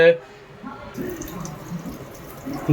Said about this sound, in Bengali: জল পড়ছে বেশ ভালো